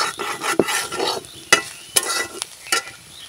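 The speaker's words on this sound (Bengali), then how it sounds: "জিরের গুঁড়ো, ধনিয়ার গুঁড়ো, গরম মশলার গুঁড়ো দিয়ে আমি আবারও নাড়াচাড়া করে নেব" Fried vegetables stirred in a pan with cumin, coriander and garam masala powder: close scraping and shuffling strokes with several sharp spatula knocks against the pan over a low sizzle.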